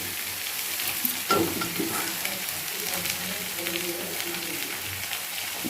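Vegetable curry with masala spices sizzles and fries steadily in a pan, a soft continuous crackle with occasional stirring scrapes, while a person talks faintly in the background.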